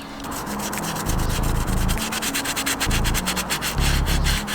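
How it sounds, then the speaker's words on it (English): Rapid scrubbing of a toothbrush against a crusty car wheel rim, a close, rough scratching in quick back-and-forth strokes with a steady rhythm, growing louder partway through. "you're going to want to just scrub away at the areas that you've sprayed"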